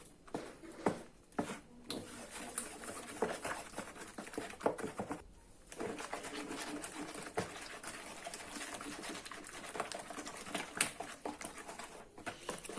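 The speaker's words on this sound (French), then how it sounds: "J'essaie de mélanger bien énergiquement pour pas laisser de morceaux" Mascarpone gets beaten hard in a bowl for a chocolate chestnut marquise, making rapid irregular patters and soft scraping that carry on with one brief pause. The sound is close and quiet, with no talk.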